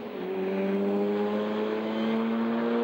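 A faulty Lotus Elise race car engine at Spa-Francorchamps drones loudly and steadily, a rough sustained tone with a slight rising pitch, heard close without any talk.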